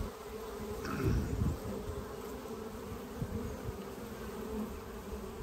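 Honey bees buzz steadily at the entrance of a backyard hive, a dense continuous drone with individual bees passing close by now and then.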